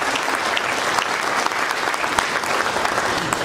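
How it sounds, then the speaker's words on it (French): Steady, dense applause from an audience at a jubilee colloquium in Thiès, continuous clapping throughout with no talk over it. "Je voudrais vous inviter à les applaudir encore."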